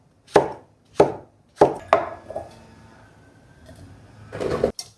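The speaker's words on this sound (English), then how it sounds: "We need to cut our zucchini." A knife chops zucchini into cubes on a cutting board, four sharp separate knocks about half a second apart, then a pause and a quicker cluster of cuts, close and clear.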